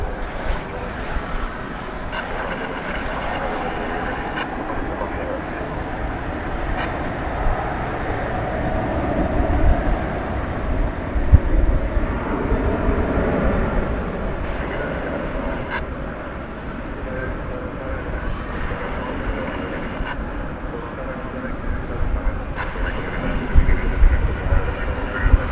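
An American Airlines 737-800 jet departing DFW Airport for El Paso at night makes a steady, broad engine roar that holds for the whole stretch, with faint voices mixed into the rumble.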